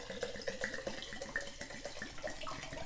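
Vodka is poured from a bottle over twelve vanilla beans in a jar to make vanilla extract. The liquid runs in a steady, gurgling stream for about three seconds, close and moderately quiet, with nobody talking.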